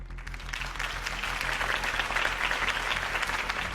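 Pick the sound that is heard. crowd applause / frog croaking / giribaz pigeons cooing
crowd applause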